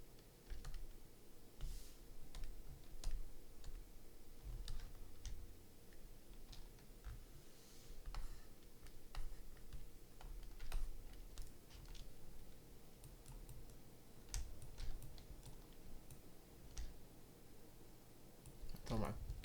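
Computer keyboard typing with irregular clicky keystrokes during a ZBrush sculpting session, fairly quiet and steady over a low hum, with a voice speaking at times.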